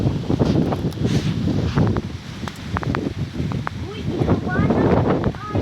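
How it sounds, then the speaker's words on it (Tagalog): Strong wind roars in gusts across an open outdoor spot, rumbling and buffeting the microphone almost without pause while voices talk over it. "Kakusog sa hangin."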